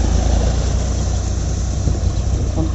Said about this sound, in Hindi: देख सकते इधर ट्रैक्टर से जोता रहा है